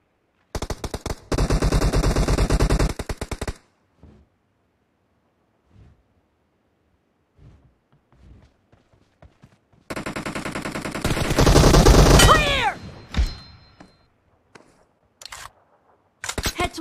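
Full-auto M416 rifle spray in a mobile shooting game: two loud, rapid bursts, one early and one later, with sparse single shots and clicks in between and ringing shell or echo tails after the second burst.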